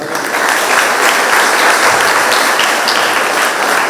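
Sustained applause from a church congregation for catechism teachers during a confirmation Mass at St. Matthias Church, Ashok Nagar, dense and steady throughout with no pauses.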